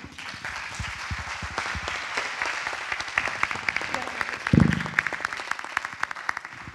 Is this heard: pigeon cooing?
no